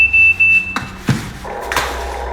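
A toy commercial excavator's remote control gives one steady, high-pitched pairing beep lasting about a second, followed by a few sharp clicks and handling knocks close by.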